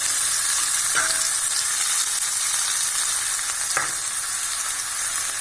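Onions and fennel powder sizzling in a wide pan, with a loud, even frying hiss that runs throughout and a couple of brief utensil scrapes, close up and with no voices.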